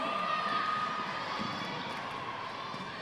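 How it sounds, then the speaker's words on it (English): Spectators at a Gibraltar versus Isle of Man netball match in the Netball Europe Open Challenge cheer and shout in a steady, moderately loud roar across the hall that eases slightly toward the end. "The crowd love it."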